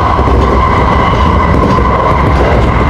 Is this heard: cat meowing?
no